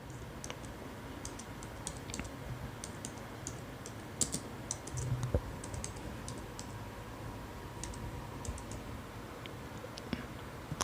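Steady typing on a computer keyboard, a continuous run of light clicking keystrokes with occasional louder taps, close and alone without speech.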